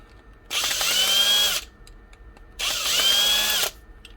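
A power drill backs screws out of a broken DeWalt drill in two loud, close whirring bursts of about a second each, separated by a short pause, the motor pitch rising and holding steady.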